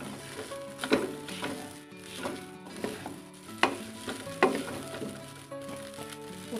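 Japanese garlic fried rice stirred in a hot pan, with a steady sizzle broken by repeated scraping and clacking spatula strokes at an irregular rhythm, close and moderately loud with no voices.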